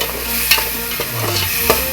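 Onion and tomato fry in a pan as a spoon stirs them, with soft sizzling under a few scraping clinks of the spoon against the pan.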